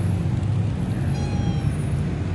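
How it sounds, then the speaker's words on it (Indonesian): A cat meows faintly a couple of times outdoors at a durian festival at Batu Caves, Malaysia, almost buried under steady crowd and traffic rumble. "saya terjumpa ada kucing"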